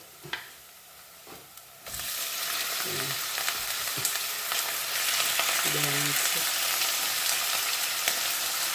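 Strips of pork sizzle loudly in a hot pan, a steady broadband crackle that starts abruptly after a couple of light clinks and holds throughout, with a few utensil taps mixed in.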